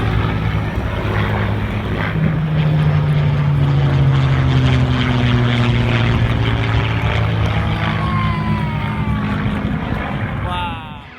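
A Corsair and a P-51 Mustang fly in formation at the 2018 Wings Over Myrtle Beach Air Show in South Carolina, their loud propeller engines roaring past with a sweeping pitch change before the sound cuts off.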